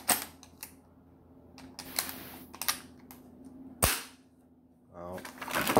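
Several sharp mechanical snaps from an MCS T15 paintball marker with a semi-auto bolt being dry fired, spaced irregularly with quiet gaps between, close and crisp, ending in a quicker rattling burst.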